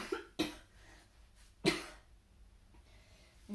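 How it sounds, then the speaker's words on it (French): A woman coughs in a few sharp, harsh bursts close to the mic, with a pause between them and a short throat sound near the end, recorded in a quiet room while she is ill. "je vais tousser, je reviens"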